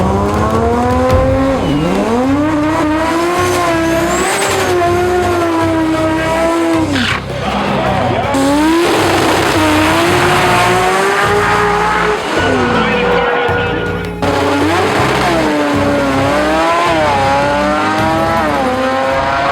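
Microtech EFI-tuned three-quarter chassis import drag car at full throttle, a loud high-revving engine climbing through gear shifts with brief tire squeal, continuous and close across a long pass.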